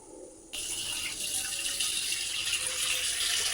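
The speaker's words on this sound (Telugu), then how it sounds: "ఇలా ట్యాప్ ఆన్ చేసి పెట్టండి వాటర్ చూసారా ఇలా ఫ్రీగా పోతున్నాయి" Tap water runs through the vent hole of a pressure cooker lid held under a faucet, starting abruptly as a steady close rushing splash that continues alone without talk.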